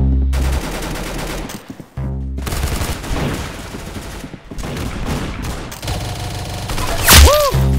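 Rapid gunfire from the Roblox game Arsenal, with dense, loud bursts of shots running nearly the whole time, brief gaps between volleys, and a sharp rising game effect near the end.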